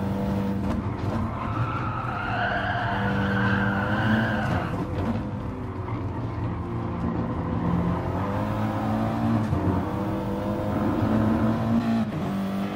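Race cars roar around a track in a racing video game on an opening lap, engines droning continuously at steady loudness with repeated tire skids and squeals through the corners.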